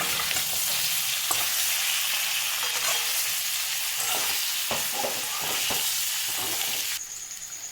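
Pitha cakes fry in oil seasoned with ginger, a dense, steady sizzle with bursts of crackle and occasional stirring scrapes, loud and close throughout, easing slightly near the end.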